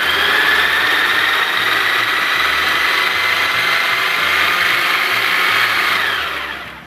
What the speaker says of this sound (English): So from there you can use a food processor like this one, put it on top, and hold on to it.